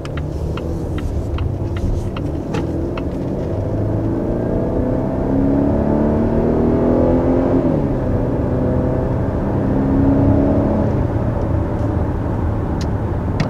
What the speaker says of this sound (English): Okay, so there was our initial acceleration. This is the T5 model.